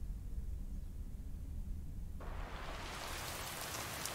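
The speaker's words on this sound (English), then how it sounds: "It's raining." Steady rain pours throughout in the video game Lake, a dense hiss of drops on surfaces that swells brighter and louder partway through, heard alone without any talk.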